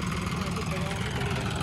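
A tractor engine runs at a steady idle during a stunt shoot, a constant chugging drone with people talking over it.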